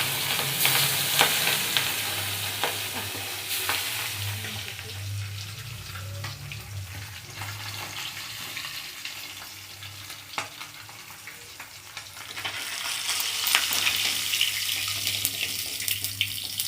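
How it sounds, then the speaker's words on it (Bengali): Large pabda fish frying in a hot wok of oil, with a loud continuous sizzle and bubbling crackle throughout, occasional stirring clatters, swelling louder again toward the end. "দেখছো পাবদা মাছ কত ফুটছে।"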